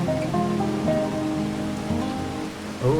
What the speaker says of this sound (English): It is definitely raining harder.